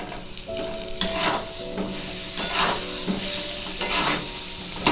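Chopped tomato frying with cumin powder in a pan, a loud close sizzle broken by repeated rhythmic scrapes and knocks of a spatula stirring the mixture.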